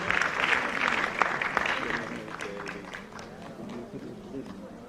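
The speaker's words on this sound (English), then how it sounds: "Please clap more and stay healthy." Audience clapping at a health sciences conference, a dense crowd applause that stays steady then thins slightly, with a voice speaking over it.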